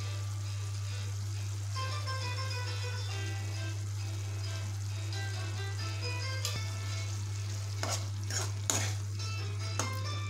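Egg masala curry with curd being stirred in a pot, with faint spoon scrapes and a few sharper clinks near the end over a steady low hum.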